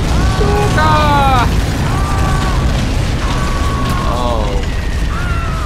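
Stuka dive bomber attack in the World War II shooter Enemy Front: wavering, wailing siren tones sweep over a loud, continuous rumble of blasts and battle noise, with a brief exclamation.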